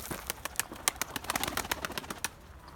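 Pigeons in a loft coo and call softly, with a quick run of short, clicky sounds that quicken in the middle, all fairly faint.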